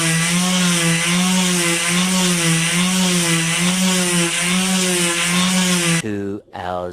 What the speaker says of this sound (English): we're going to be deleting that black bit with a sander